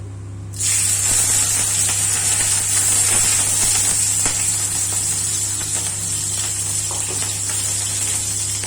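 Nigella seeds and slit green chillies sizzle in hot oil for a tempering, a sudden loud hissing crackle that starts abruptly and continues steadily with small pops, close and alone.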